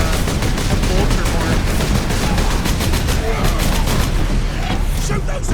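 Rapid, loud bolter gunfire in the video game Space Marine, a dense continuous rattle of repeated shots layered over battle noise, with a voice briefly heard.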